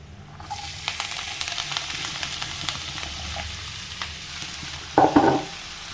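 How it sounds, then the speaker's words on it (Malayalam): Chopped spinach being stirred in a hot frying pan after chilli powder and turmeric, a steady gentle sizzle with intermittent scraping of a utensil, then a louder burst of rattling and scraping near the end. "അരിഞ്ഞ് വെച്ചിരിക്കുന്ന ചീര ഇട്ട് കൊടുത്ത് നല്ലോണം മിക്സ് ചെയ്ത് കൊടുക്കാം"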